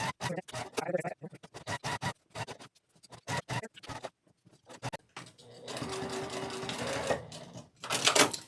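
A sewing machine back-stitches the binding of a quilted placemat, first in quick stop-start bursts of needle clatter, then in a steadier, longer run of stitching, close up with no one talking.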